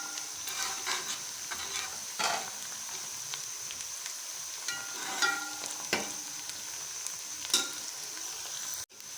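Onions frying in a pan for an aloo matar pulao, turning golden under steady stirring, with a constant close sizzle broken by sharp scraping strokes of the spoon throughout.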